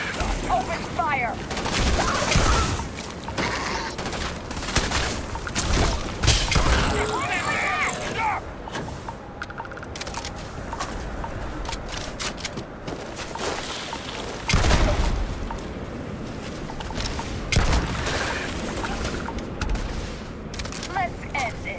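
Dense, sustained gunfire from the Starfield video game, with bursts of rapid shots and booms running throughout, loud and busy with voices speaking over the battle.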